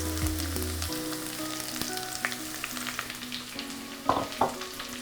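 Lima beans sizzle softly in a hot pan for an Asian stir fry, a steady low crackle with scattered pops and a couple of brief clinks of utensils, no one speaking.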